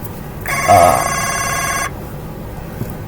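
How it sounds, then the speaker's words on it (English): A mobile phone ringtone sounds once as a loud, close electronic melody lasting under two seconds, then stops, with quiet room background around it. "Oh, that's my phone."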